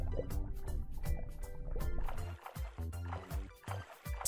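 Water splashing and churning as someone swims, pushing the water backward with their hands, with a continuous run of sloshing strokes that breaks into uneven, separate splashes toward the end, close by.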